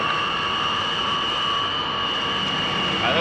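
Jet aircraft engines during a rolling takeoff start, a steady, loud roar with a high whine, heard continuously from close by, as though from inside the cockpit.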